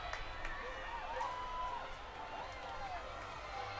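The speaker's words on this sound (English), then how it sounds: "I hear some cheering." Parade crowd along a street cheering and whooping from a distance, a steady faint wash of voices with scattered shouts, no speech up close.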